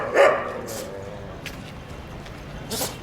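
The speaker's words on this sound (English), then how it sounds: "Look at the dog's going crazy." At night in Jodhpur, India, a street dog barks sharply and close at the start. A few fainter yips follow over a low street hum, with one more bark near the end.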